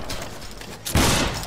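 A musket line volley fires in the Battle Grounds III linebattle game, a loud broadband crash near the end after quieter scattered gunfire and background noise.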